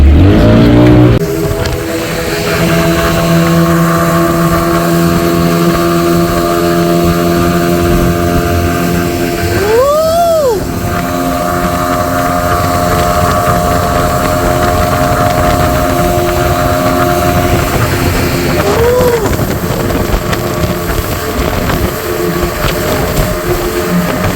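A speedboat out on the sea at Puri beach, its engine a loud, close, steady droning hum that rises and falls in pitch twice as the throttle is opened, with wind and water rushing underneath.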